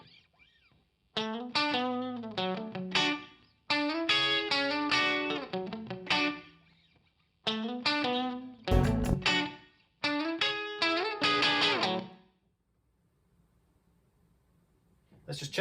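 Distorted electric guitar phrases with chorus-like effects, panned wide in stereo with reverb blended in, playing in loud bursts separated by short pauses and ending with a reverb tail.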